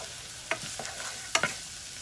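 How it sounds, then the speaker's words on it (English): Onions and ginger frying in a pan over medium heat, with a soft background sizzle broken by a few short scraping stirs, two of them louder, close and without talk. "It says 5 to 7 minutes, occasionally stirring or until onions have become golden and soft"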